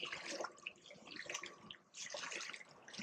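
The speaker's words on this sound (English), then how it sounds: "As we turned a corner, we suddenly heard the noise of the water." Warm thermal water flows toward a waterfall at a geothermal stream, a faint splashing, bubbling rush with uneven surges, heard softly from nearby.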